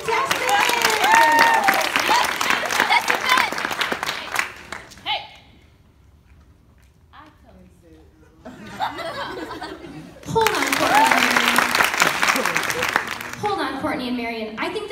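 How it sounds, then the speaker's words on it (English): A live audience applauds contestants at a comedy skit, a loud burst of clapping mixed with laughter that fades into a quiet gap, then swells again into a second round of applause and chuckles. "Let's get a round of applause for our lovely contestants!"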